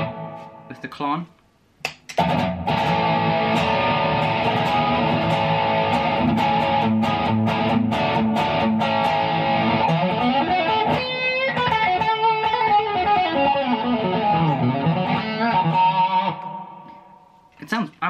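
Electric guitar run through a Vox-style amp simulation with a Klon overdrive, miked through a 212 cabinet with Dynamic 57 and R121 in stereo with Flint reverb and tremolo. It plays continuously and loud for about fifteen seconds of sustained, driven chords and notes.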